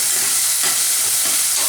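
Tomatoes sauté with turmeric and salt in a hot pan while making capsicum bath, giving a steady loud sizzle with a few soft stirring scrapes and no voices.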